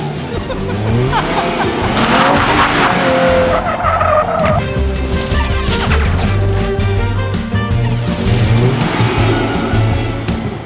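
A car engine roars while tires squeal and screech through sliding turns, loud and close, with the engine revving throughout.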